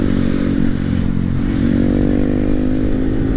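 A Honda Grom mini bike rides along a back road near Greenville, South Carolina, its small engine droning loud and close with a steady, slightly rising pitch, wind buffeting underneath, and no talking.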